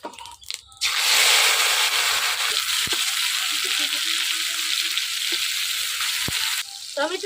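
Tomatoes hit hot mustard oil with cumin in a kadai, giving a loud, sudden sizzle that holds steady for several seconds before easing off, with a few faint clicks and stirring touches.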